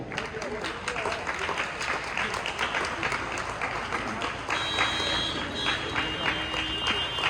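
Audience applause at a formal stage ceremony, welcoming a guest who receives a memento from the chief guest; steady, dense clapping from a crowd that carries on evenly throughout at moderate loudness.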